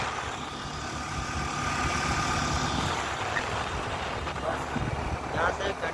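A motorbike engine runs steadily during a ride at dusk, a continuous low drone with road and wind rumble under it.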